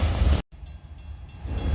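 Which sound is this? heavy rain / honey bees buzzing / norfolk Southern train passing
norfolk Southern train passing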